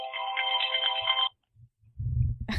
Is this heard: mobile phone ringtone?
yes